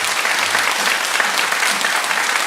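A church congregation claps together for a few seconds to welcome first-time visitors at a Sunday service, steady dense applause filling the room with no speech over it.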